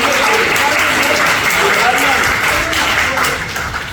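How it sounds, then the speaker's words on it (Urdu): Steady applause from an audience at a talk on behaviour and communication, a dense unbroken wash of clapping that holds loud throughout and eases slightly toward the end. "تالیاں"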